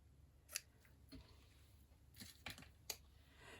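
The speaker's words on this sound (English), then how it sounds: "Scissors. There we go, ribbon scissors." Ribbon scissors snipping through ribbon indoors: a few sharp, quiet clicks and snips spaced irregularly, close to the microphone against a soft, hushed room background.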